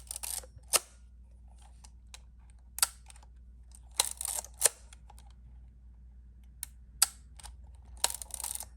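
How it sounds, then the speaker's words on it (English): Several crisp mechanical clicks and short ratcheting snaps from a Yashica Electro 35 GSN rangefinder film camera being cocked, sparse and close, separated by quiet pauses over a low hum. "And this is a cocking sound."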